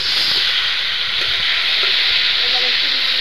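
Onion, green chilli and tomato sizzle loudly in a hot pan, a steady close hiss with some scattered crackles and faint stirring, continuous throughout and no talking.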